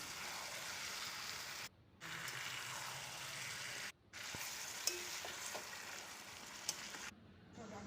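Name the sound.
chicken pieces frying in spice paste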